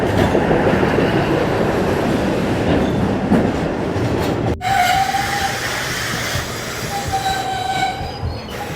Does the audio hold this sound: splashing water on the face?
no